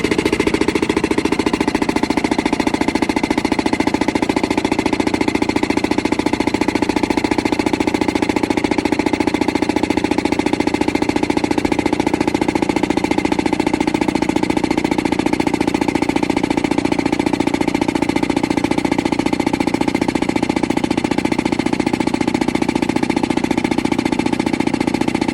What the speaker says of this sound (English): And I'm going to lift the jack.